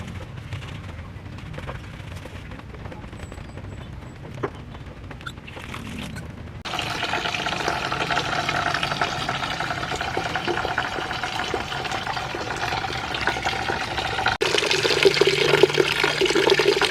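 Running water rinsing soaped snake plant leaves, a steady broadband wash of flow and splashing that grows louder partway through and continues without pause.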